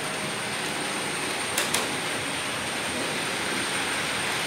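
A running train gives a constant broadband rush with a high steady whine above it and two quick metallic clicks partway through, heard alone.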